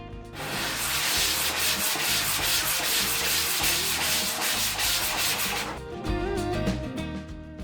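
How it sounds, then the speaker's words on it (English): Hand sanding of a raw wood tray and board with a sheet of 220 grit paper wrapped around an old sanding block: steady, close back-and-forth rasping strokes in a quick even rhythm, loud and alone, easing off near the end. "I'm using a 220 grit paper sheet wrapped around an old sanding block."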